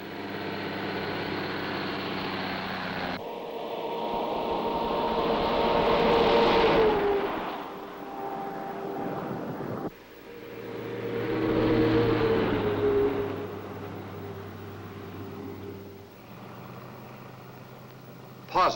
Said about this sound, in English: A truck loads and leaves this plant approximately every 40 minutes,